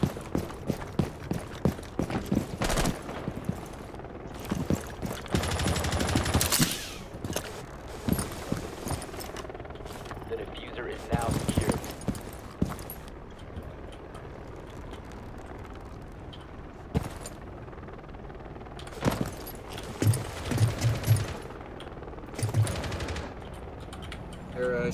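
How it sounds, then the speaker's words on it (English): Gunfire in Rainbow Six Siege on the Bank map: bursts of rapid automatic shots and scattered single reports, some loud and close, others muffled, with footsteps and game sounds between volleys. "Shooting out from main entrance."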